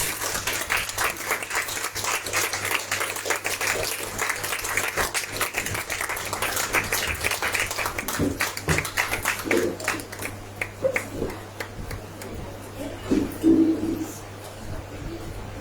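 Church congregation clapping to welcome the preacher, a dense, steady patter of many hands that thins into scattered claps and fades near the end.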